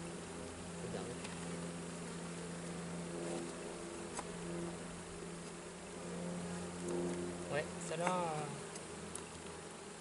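Honeybees buzz steadily at an open hive during a spring inspection as new and old bees mix, a continuous close drone with occasional louder passes, while a few words are spoken nearby.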